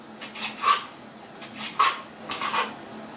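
A knife slices bacon into very thin strips on a board in a home kitchen, giving a few sharp, close cutting strokes with short pauses between them and no talk.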